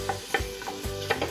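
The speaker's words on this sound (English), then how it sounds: "You hear that little sizzle?" Chopped onion sizzles in hot olive oil in a pan while soup is started, a close, soft crackling hiss with a few stirring scrapes in short rhythmic pulses, no voices.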